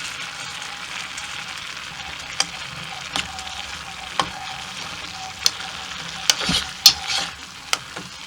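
Red lentils sizzling on a Trangia Mini camping stove, a steady soft fry crackle broken by scattered sharp pops and scrapes of stirring, with no talk.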